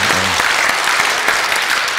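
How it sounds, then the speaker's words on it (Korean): A church congregation at a Sunday service claps in praise, a loud, dense burst of applause filling the room with a brief voice at the start. "우리 한번 영광의 박수."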